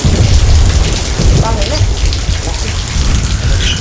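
Heavy rain pours steadily and loudly close by, with brief rumbles like thunder, while a few people talk quietly underneath.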